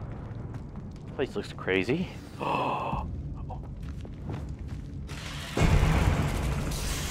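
A Confringo blasting spell explodes in the video game Hogwarts Legacy. After stretches of talk, a loud, broad blast erupts near the end and rumbles on.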